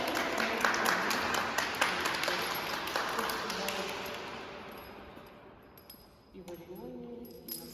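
Applause rings out at a tennis awards ceremony for the first-place group winner, a burst of close clapping that gradually dies away, followed by people talking.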